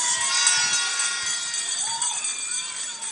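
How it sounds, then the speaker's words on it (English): Crowd at a UNC political forum night in Tunapuna cheers and shouts in a steady, dense roar lasting throughout, with applause blended into the loud, continuous noise of many voices. "give him a round of applause"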